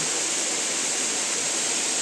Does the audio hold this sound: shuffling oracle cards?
no